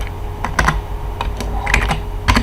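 Code being typed on a computer keyboard during a programming lesson, with irregular bursts of crisp, close keystrokes and short pauses between them, no voices.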